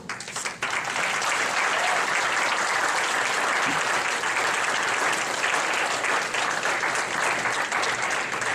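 An audience claps for contestants on stage at a national competition at Sherman College, producing a full, sustained round of applause that stays loud and continuous for the whole stretch.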